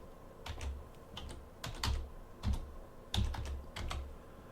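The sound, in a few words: typing on an Android phone keyboard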